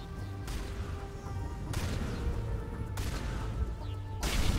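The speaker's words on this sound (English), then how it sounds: "Tally is shooting at somebody over here with her shotgun" Shotgun blasts in Mass Effect, a few sharp broadband bursts roughly a second apart over a constant droning game soundscape with humming tones, no speech.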